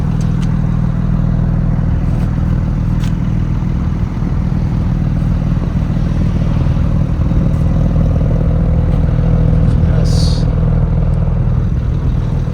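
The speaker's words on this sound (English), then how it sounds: "It's running at the moment, so you can hear that nice sport exhaust." A 2021 Porsche 718 Boxster GTS 4.0 with sport exhaust idling up close, a loud, steady deep rumble with a faint higher whine, continuous for the whole stretch.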